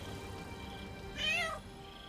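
A cat in the video game Baldur's Gate 3 gives a single clear, drawn-out meow over a steady low ambient game soundscape.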